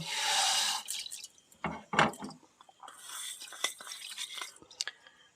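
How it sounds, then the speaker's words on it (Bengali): Water is poured into a saucepan for a sugar syrup, splashing and trickling with drips for a moment, followed by a few close clinks of a pan and utensils in a quiet kitchen. "দুবাটির যে জলটা মেপে রেখেছিলাম সেটা একটা সসপ্যানে দিয়ে এর মধ্যে চিনি দিয়ে ফুটিয়ে রাখব"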